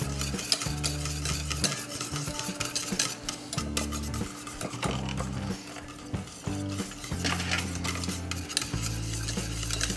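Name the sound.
whisking a thickening sauce mixture for meatloaf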